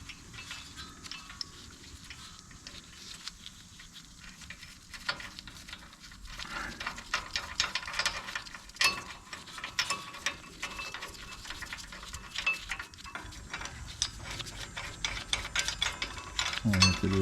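Ratchet turning a grade 8 half-inch bolt and nut used as a press to push a brake rotor off a 2021 Ford Ranger 4x4, heard as a quiet steady run of clicking that builds in loudness, with no talking.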